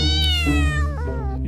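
A cat meows loudly and close by, one drawn-out, wavering call with a rising then falling pitch, alone without any talk.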